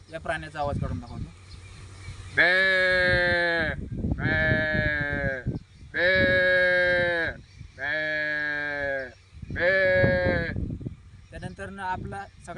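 A man mimics a goat with five drawn-out, quavering bleats in a steady series, each loud and close with brief gaps, plus some breathy sounds at the start and end.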